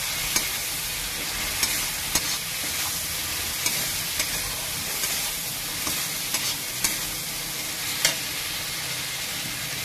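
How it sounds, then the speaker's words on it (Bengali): Ground spices and tomato paste fry and get stirred in a pan with pangas fish, a constant close sizzle with sharp utensil taps against the pan every second or so, no talking. "আর এই সব গুঁড়ো মশলাগুলো দিয়ে দিচ্ছি একসাথে। দিয়ে একটু ভালো করে নেড়ে নেবো।"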